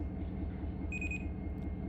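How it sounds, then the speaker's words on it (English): An end-of-train device in the Run 8 Train Simulator III railroad game gives a short series of rapid high-pitched beeps over a deep, steady locomotive engine rumble. "that little beep, beep, beep was our EOT device telling us that the end of the train is now moving"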